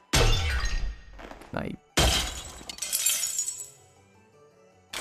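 A glass window shatters in the video game Skin Deep with a sharp crash and a trail of tinkling shards. A second loud smash with scattering debris follows, then fades.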